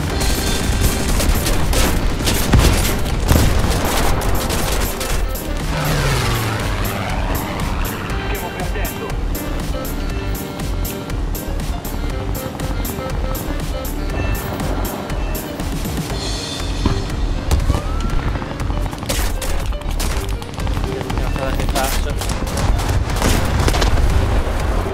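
Bombs drop and explode in War Thunder, with loud booms and rattling gunfire over constant engine noise, while a player talks excitedly throughout.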